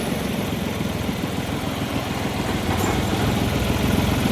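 Vehicle engine running steadily while driving, a dense low rumble that grows slightly louder and rougher partway through, continuous with no speech.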